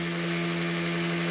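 Steady whirring of a power sander working 220-grit paper across a custom van emblem, a continuous close, even drone with strong tonal hum and no breaks.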